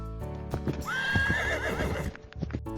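A horse whinnies loudly in a rising, shaking neigh over rhythmic clip-clop hoofbeats, and the hooves carry on after the call fades.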